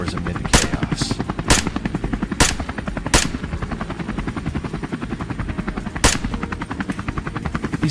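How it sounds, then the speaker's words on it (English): A helicopter's rotor thumps steadily and close while a rifle fires from inside the cabin at fleeing boars over a California farm field, about six loud, separate sharp shots spaced irregularly above the constant chopping. "Gunfire thundered across the field, bullets tearing through the soil."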